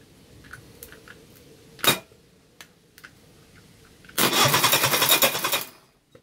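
Engine cranking over on the starter during a compression check on a project car in a garage, a rapid rhythmic chugging burst lasting about two seconds after quiet clicks and a sharp knock.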